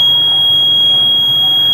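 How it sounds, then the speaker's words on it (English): A fire alarm panel's local buzzer sounds a continuous, loud, high-pitched electronic tone, steady and unbroken for the whole stretch. "the first thing you're going to want to do is silence your local buzzer"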